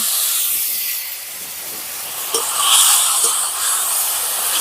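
Water poured into a hot pan of curry with raw mango and snakehead fish, giving a loud, steady hiss of steam that swells sharply midway and stays bright and close.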